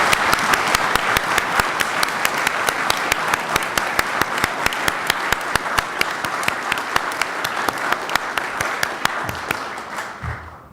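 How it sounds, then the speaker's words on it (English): An audience at a conference closing ceremony claps steadily, dense applause with sharp individual claps standing out, sustained for about ten seconds before thinning out at the end. "I want each and every one of you to join me in a round of applause"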